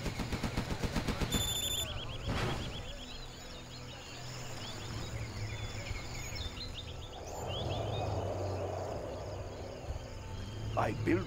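Rapid machine gun fire in the strategy video game C&C Generals Zero Hour, playing as China, a dense, continuous rattling barrage with sharp bursts near the start and end, over game ambience and chirping insects.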